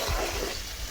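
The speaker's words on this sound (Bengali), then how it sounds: "এই আলুটা আগে দিয়ে দিচ্ছি। একটু নেড়ে আমি ঢাকা দিয়ে রাখবো" Thick-cut potato pieces stir and fry in hot oil in a pan, a brief close sizzle with scraping movement and a small clatter at the end.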